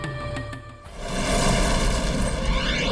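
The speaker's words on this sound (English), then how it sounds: "A series of explosions rip through New York City." A series of explosions ripping through New York City, a deep rumbling boom that swells after a brief dip and holds as a loud, sustained roar with crackling debris.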